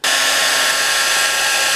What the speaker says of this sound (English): Keep the hairdryer going right in front of the tape or right around it.